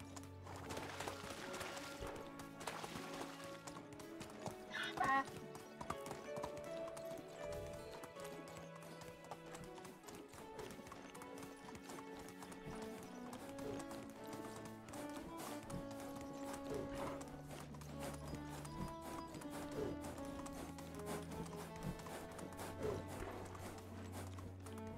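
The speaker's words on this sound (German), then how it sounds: "Wir reiten einfach querbeet." A horse's hooves clip-clop steadily as a rider crosses open country and marsh in the video game Medieval Dynasty, a continuous rhythmic gait beneath game music and ambience, moderately quiet throughout.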